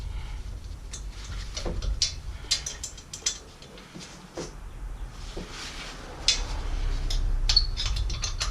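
A hand ratchet wrench loosens the bolts on a Terry Houston turbo downpipe of a Buick Grand National, with bursts of close, quick clicking strokes separated by brief pauses and small metallic knocks.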